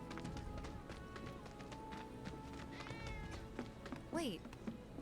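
A cat gives a short, rising meow near the end amid footsteps and game ambience in Final Fantasy VII Remake, fairly faint against the background.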